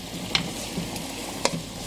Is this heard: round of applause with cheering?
no